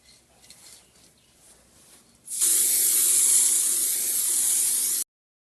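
Aerosol spray paint applied to replica 22B hood vents, starting after a quiet stretch with a sudden loud, steady hiss that holds for nearly three seconds and then cuts off abruptly.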